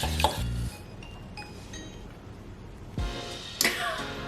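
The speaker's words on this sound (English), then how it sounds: "added rice vinegar, tamari, maple syrup, toasted sesame oil, chili powder, and gave it a nice little stir" A utensil stirs a peanut, ginger and garlic sauce in a bowl, producing light clinks and scraping taps against the dish, nearby and between a couple of louder knocks.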